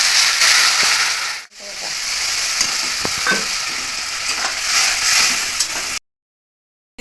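Ginger paste, ground cumin and ground coriander sizzle hard in a hot pan after a little water is added. A loud, steady hiss with stirring scrapes runs close up, then cuts off abruptly.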